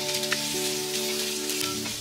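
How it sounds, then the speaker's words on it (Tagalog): Squid balls with sliced carrots and sweet peas sauteing in a pan, a steady close sizzle of frying with occasional stirring clinks, no voices. "Saute lang natin saglit para maluto yung ating carrots."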